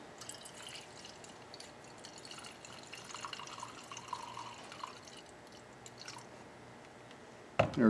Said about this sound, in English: I'm going to measure out 100 milliliters of the ethyl alcohol.